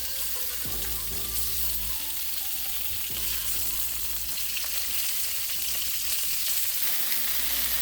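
Cooking oil sizzles and crackles steadily in a pan over medium heat, a close, continuous frying hiss with faint low clatter from the pan in places, and no talking.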